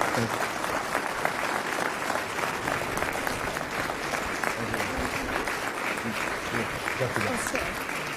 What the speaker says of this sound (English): please give a fast. warm round of applause for Kevin Strain